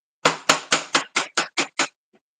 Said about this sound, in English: You gotta hit with a hammer.